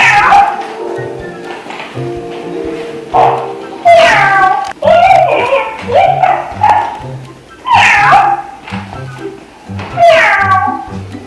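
A FurReal Walkalots toy cat walks and gives repeated loud electronic meows and yips in bursts, with a person talking between the sounds.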